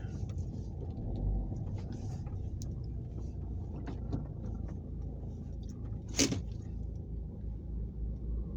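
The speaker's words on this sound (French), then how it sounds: "Voilà les amis, j'éteins le moteur" A car engine hums in a low, steady rumble from inside the vehicle for several seconds, with a brief sharp click partway through, before it is switched off.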